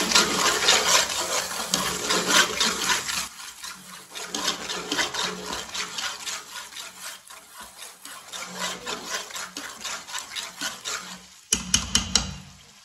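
Finely chopped mint and green chillies being stirred and mixed by hand for Punjabi biryani, a rhythmic rubbing and scraping close up, steady for most of the clip, ending in a few sharper knocks.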